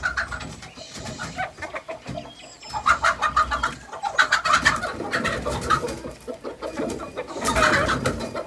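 Hens clucking and cooing inside a backyard chicken coop, overlapping calls rising and falling in bursts, with louder flurries of squawks near the middle and end, fairly close and alone.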